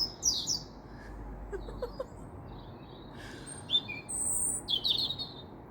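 Several birds chirp and sing at dawn in a garden, short bright calls and trills scattered near and far over a soft low background hum.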